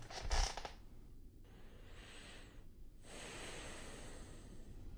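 Eerie ambient breathing sound from the horror video game Pools, with a louder breathy burst at the start, then steady airy hiss that drops out twice briefly and returns, no talking.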